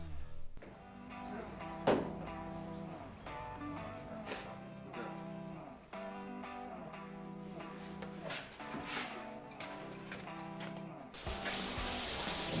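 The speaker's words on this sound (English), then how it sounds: "we're just sanding with our 400 grit, wet and dry" Steady wet sanding by hand with 400 grit wet-and-dry paper on a Pontiac Parisienne's bonnet underside, a continuous rhythmic rubbing with repeated back-and-forth strokes, close and moderately loud, getting brighter and harsher near the end.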